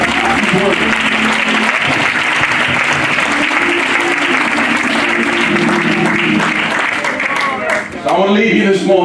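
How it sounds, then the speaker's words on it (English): A church congregation claps in loud, sustained applause for several seconds, dense and close, easing briefly near the end before a final swell, with voices cheering beneath it. "give God a hand clap of praise"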